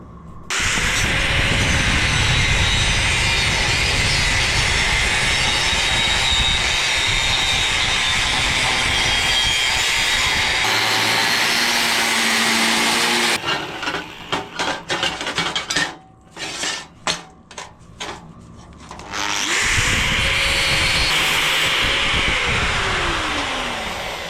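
A power tool cutting a curved shape out of a metal fork bracket for a custom bobber, a loud continuous high whine that breaks into stuttering bursts midway and then returns to a full steady roar, with no talk.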